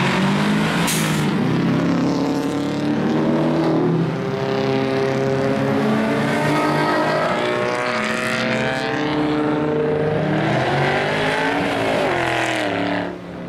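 A pack of cars pulls out of a turn outside a Pavilions lot, engines rising and overlapping in loud, layered revving as several vehicles accelerate close by, one after another, with no talk.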